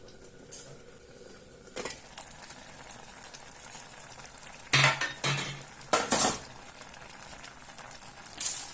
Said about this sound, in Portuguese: vou mexer assim um pouquinho